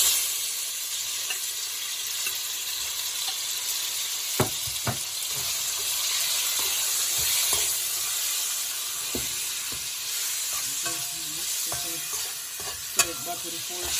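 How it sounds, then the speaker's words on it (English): Seasoned chicken breast for jerk chicken tacos fries in oil in a pot, a dense, steady sizzle and hiss lasting throughout, broken by scattered sharp clicks and taps of stirring, with no talking. "I'm gonna add it to the pot where I have some oil in the pot already"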